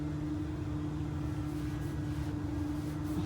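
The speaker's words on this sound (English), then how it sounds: "I think that's a helicopter." A helicopter flies overhead, a steady low droning rumble with a constant hum, sustained and unbroken, moderately faint with no speech.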